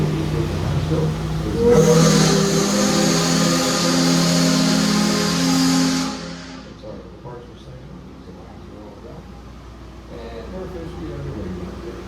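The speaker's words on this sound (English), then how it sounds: "I think there's diesel engines on here too" A loud, steady diesel engine drone hums for several seconds aboard the steamboat Natchez, then cuts away to a quieter low rumble of machinery in the background.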